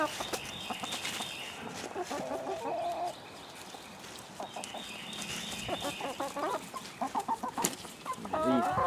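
Chickens clucking steadily in a group outdoors as turnip greens are thrown to them, busy overlapping calls with one rising squawk near the end.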